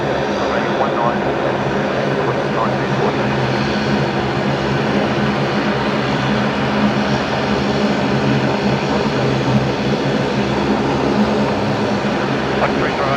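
A Link Airways plane approaches Brisbane Airport at night: a steady, loud engine drone with a broad rumble that holds evenly throughout, with faint radio chatter beneath it.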